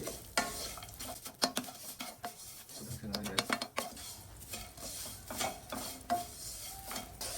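Vermicelli being stirred as it fries in ghee for sheer khurma: repeated scraping and clinking of a spoon against the pan over a steady, soft sizzle.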